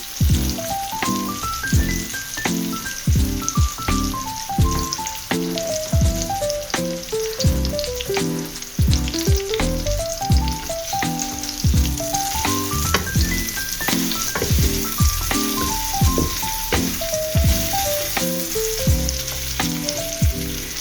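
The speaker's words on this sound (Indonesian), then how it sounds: "baru kita masukkan bumbunya" Seasoning sauce poured into a hot pan with browning chicken for a butter-sauce dish fries and sizzles loudly and continuously, with crackling bursts and stirring, no voices.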